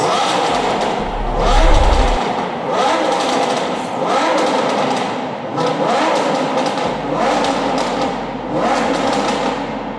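A car engine revs in repeated bursts, with crackling pops from the exhaust between throttle blips, loud and close.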